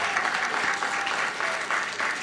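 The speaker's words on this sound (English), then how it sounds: "She deserves a round of applause." An awards event audience applauds, a sustained wash of many hands clapping at moderate volume from start to finish with no speech over it.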